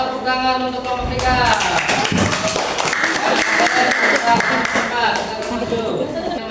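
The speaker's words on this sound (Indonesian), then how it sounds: "Tepuk tangan untuk kelompok 3." A classroom of students applauds a group at the front, with quick, dense clapping near the mics that overlaps speech at the start and keeps going throughout.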